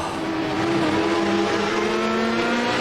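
Racing car engine in a video game, a loud continuous buzzing roar with rising revs and a brief gear-change dip, steady and close throughout, with no talking.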